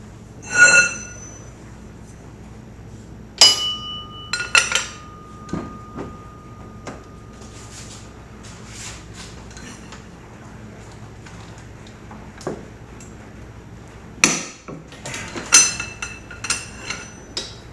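Loosening a bolt on a 2004 Lexus IS300 during a timing belt service brings a few sharp metallic clanks and knocks, spaced irregularly between long quiet stretches, with a faint steady tone in the middle.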